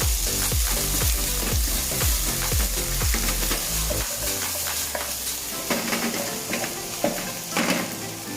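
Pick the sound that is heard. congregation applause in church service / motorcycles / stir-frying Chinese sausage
stir-frying Chinese sausage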